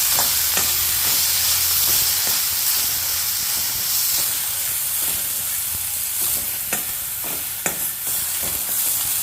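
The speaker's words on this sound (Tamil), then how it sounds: "இப்போ வாழைத்தந்த போடணும் வாழைத்தந்த போட்டு வதக்கணும்" Banana stem sautés in a hot pan for South Indian banana stem rasam, a continuous loud hiss and sizzle broken by repeated scraping stirs of a spoon close by.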